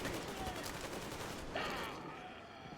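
Gunfire from the video game Metro Exodus rattles in a dense, continuous burst of shots across a noisy mix, with a brief louder surge partway through.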